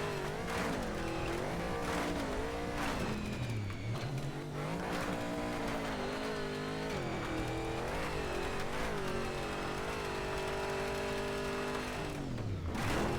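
Rally car engine from the game Colin McRae: DiRT revving loudly and continuously, pitch rising and falling through gear changes with occasional tire squeal, close and steady with no talking.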